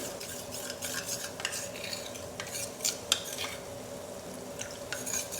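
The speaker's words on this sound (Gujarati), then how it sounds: "1 ચમચી કોર્નફ્લોર લઈશું, તેમાં 2 ચમચી જેટલું પાણી નાખી અને સ્લરી રેડી કરી લઈએ" A spoon stirring a cornflour and water slurry in a small bowl, heard as quiet repeated clinks and scrapes at an uneven rhythm over a faint background hum.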